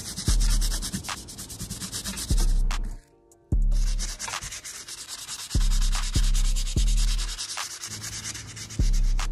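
A soft bristle brush scrubs the uppers of Yeezy slides with steady, close rasping strokes, broken by a brief pause and a few dull knocks as the slide is handled.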